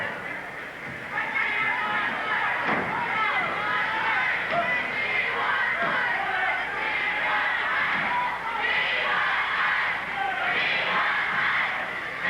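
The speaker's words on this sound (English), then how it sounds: "There's the cry from the crowd." Crowd at a 1980s Portland professional wrestling match, a steady roar of many voices with rising cries and shouts throughout, loud and continuous, with an announcer's commentary mixed underneath.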